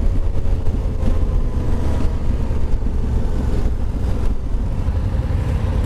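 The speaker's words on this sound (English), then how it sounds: "That's the Tenere 700." A Yamaha Tenere 700 motorcycle rides along, its engine giving a loud, continuous low rumble mixed with steady wind noise and no distinct pass-by.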